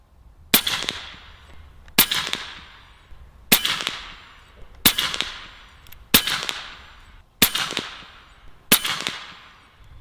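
An AEA HP MAX .357 big bore air rifle, tethered at 3,500 PSI, fires seven loud, sharp shots at an even pace about every one and a half seconds, each with a short ringing decay outdoors.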